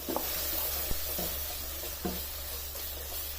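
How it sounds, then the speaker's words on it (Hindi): Chicken mince sizzles as it fries in a pan, a steady close hiss with a few soft stirring taps and scrapes. "इस चिकन को इसमें 2 से 3 मिनट तक फ्राई होने देना है"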